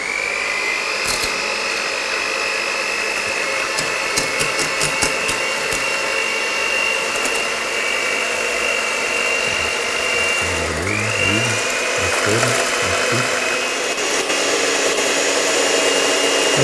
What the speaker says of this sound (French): on va monter nos blancs en neige